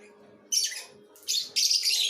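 Pet birds in cages give a few bright, close chirps in short bursts, a single call then two longer overlapping trills, with a quiet hum between.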